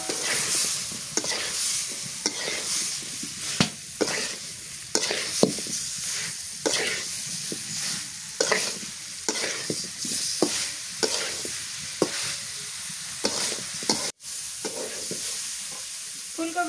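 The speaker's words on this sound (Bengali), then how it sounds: "এবার ফুলকপি দিয়ে দিই।" Cauliflower is stir-fried with spices in a pan: a continuous frying sizzle runs throughout, broken by a steady series of sharp scraping strokes from a spatula stirring the vegetables, close and fairly loud.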